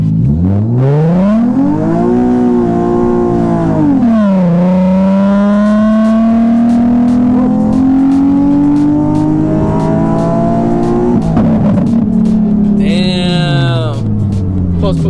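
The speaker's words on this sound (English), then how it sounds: "We're gonna do a quick pull on the Z real quick." A tuned Nissan 370Z engine revs up hard through rising gears, a loud, continuous climbing roar with brief shifts, heard from inside the car.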